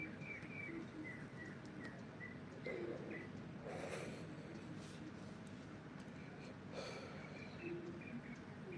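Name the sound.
birds chirping outside at dawn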